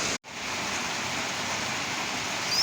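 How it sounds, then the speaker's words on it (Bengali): Heavy morning rain, falling like monsoon rain, makes a steady, dense hiss throughout, with only a brief dropout near the start and no voices. "একদম বর্ষার মতো বৃষ্টি পড়তেছে"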